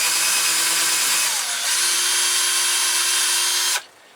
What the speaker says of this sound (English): I pre-drill these holes to reduce the chance of splitting.